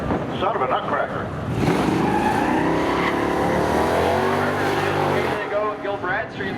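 Race cars and trucks tear away on a drag run at Seekonk Speedway, engines building to a loud roar that sweeps past and fades. A commentator talks over it.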